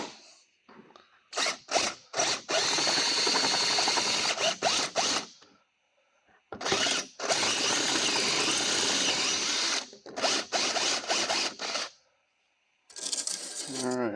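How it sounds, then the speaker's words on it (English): A power drill bores holes in steering parts during a rebuild, running in several loud bursts of whining and grinding separated by short pauses, close to the listener. "I'm going to go ahead and get these things drilled"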